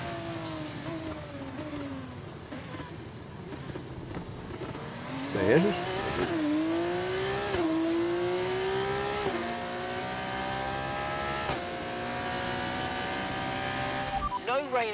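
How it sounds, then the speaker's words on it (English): Race car engines whine and rev continuously in the video game F1 24, an F2 car at Bahrain, pitch rising and falling through gear changes, with someone talking over the engine noise throughout. "the engines sound better in this car than they do in the F1 car"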